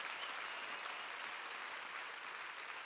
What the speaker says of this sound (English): Let us clap our hands for him.